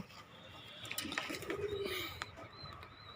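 Native pigeons coo in a small backyard pigeon farm, a quiet low rolling call rising near the middle with faint chirps and scattered clicks around it.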